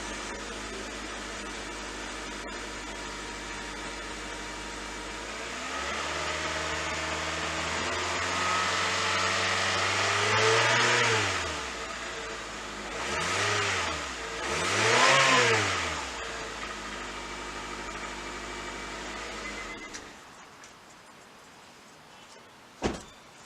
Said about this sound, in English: Let's rev it a couple times.